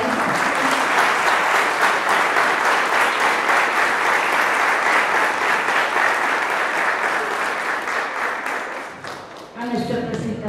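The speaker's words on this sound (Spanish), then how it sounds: "pido un fuerte aplauso para ella" Sustained applause from a concert audience at a music school recital, clapping dense and loud after the pianist's performance, fading slightly near the end as other sound enters.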